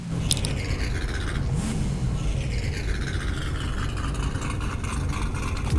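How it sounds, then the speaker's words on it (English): An LS V8 swapped into a car in Forza Horizon 5 idles with a steady, deep low-end rumble and a constant rough texture, close and unbroken throughout. "Oh my god, listen to that idle"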